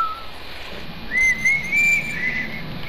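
A person whistles a short, wavering melodic phrase, fairly close and clear over low background noise, with no talking.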